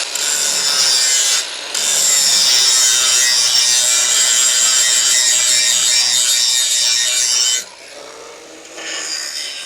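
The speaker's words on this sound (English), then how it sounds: "Take off a little bit of that rust on that plate." Loud, harsh abrasive scraping as rust is taken off a steel trailer jack plate, a continuous close grinding rasp running for several seconds with a brief break and a quieter tail.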